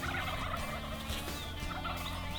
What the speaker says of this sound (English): there's a lot of turkeys over here